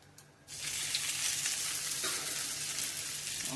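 Pieces of fish for sweet and sour fish dropped into hot oil in a pan, a sudden close sizzle that starts after a brief quiet moment and holds as a steady crackling hiss.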